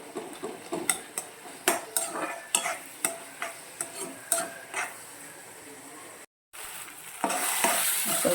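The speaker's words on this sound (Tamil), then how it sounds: "தக்காளியும் வெங்காயமும் நல்லா வதங்கி பச்சை வாசனை போகணும்." Tomatoes and onions sizzle softly in a pan while a spoon scrapes and taps the metal in a regular stirring rhythm, close up and fairly quiet.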